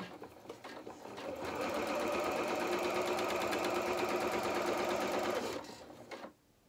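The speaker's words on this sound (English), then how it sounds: "now we're just going to sew this down with our 1 centimetre seam allowance" A sewing machine runs a continuous stitching burst for about four seconds, sewing a trouser seam at a 1 cm seam allowance. It is close and steady, with brief lead-in and run-out noises and no talk.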